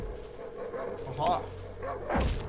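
A dog in the horror survival game Darkwood gives a couple of sharp, close barks and yips over a low steady background hum.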